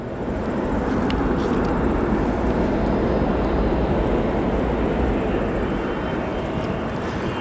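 Boeing 747 arriving at O'Hare after a flight from Anchorage, a loud, dense, steady engine rumble filling the whole stretch with no voices.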